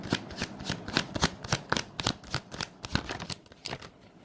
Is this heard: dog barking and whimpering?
no